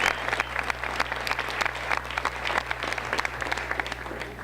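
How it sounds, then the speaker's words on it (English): Warm applause from the audience at the 2019 Port Coquitlam volunteer recognition awards, steady clapping from a modest crowd heard clearly throughout, with no voices over it. "Can we just give him another round of applause?"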